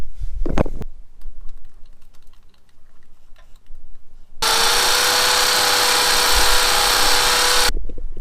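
A few faint knocks and taps, then a loud power drill whirs steadily for several seconds, drilling holes into a wall to mount an outdoor security camera before stopping abruptly.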